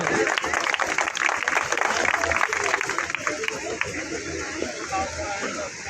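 An outdoor crowd at a bridge inauguration ceremony claps for the dignitaries in sustained, loud applause that fades toward the end, with chatter and voices mixed in.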